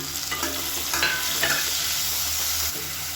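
Sliced medium onion sautéing in a pan for kuska, a steady broadband sizzle with a few light stirring scrapes, close and continuous with no talk.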